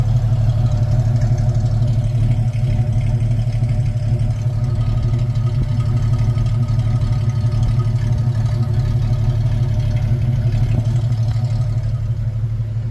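Steady idle of a Jeep YJ Wrangler with a 4.6 stroker engine, stainless header and stock exhaust, a smooth, even low rumble held at constant level for the whole stretch, with no talking over it.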